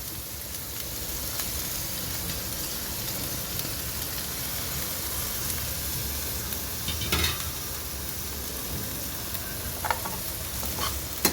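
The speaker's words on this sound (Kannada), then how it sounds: "ಬೇಯಿಸಿರ್ತೇವೆ ಆದರೂ ಸ್ವಲ್ಪ ಎಣ್ಣೆಯಲ್ಲೇ ಫ್ರೈ ಮಾಡ್ಕೋಬೇಕು" Boiled field beans fry in oil in a pan, giving a continuous bright sizzle with a few louder crackles and stirring scrapes near the end.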